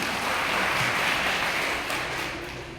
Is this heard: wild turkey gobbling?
no